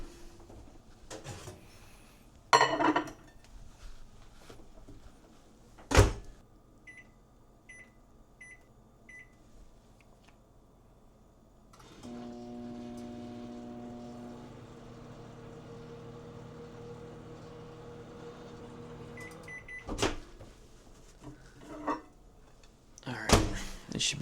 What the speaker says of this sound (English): you're gonna pop these in the microwave for 15 seconds